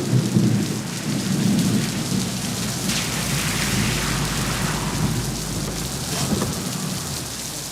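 Steady heavy rain falling on the desert with rolling thunder rumbling through, the downpour a constant hiss while deeper booms swell and fade, no voices.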